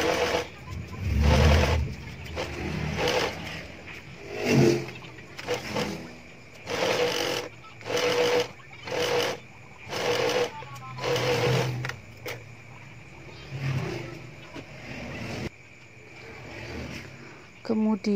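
A sewing machine stitches an overlocked fabric ruffle in short, repeated bursts of rapid mechanical clatter with brief pauses between runs, close and fairly quiet.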